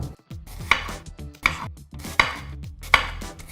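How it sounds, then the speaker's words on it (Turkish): Four sharp knife chops strike a cutting board at an even, steady pace as an onion is chopped, close and crisp with short pauses between. "Soğanı nasıl doğradığınız hiç fark etmiyor"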